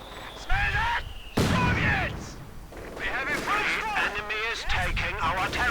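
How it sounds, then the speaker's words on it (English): Light machine guns fired by Grenadier infantry squads in a strategy video game crack in scattered bursts and booms beneath a commentator's voice that talks through most of the battle. "Light machine guns doing what they do best."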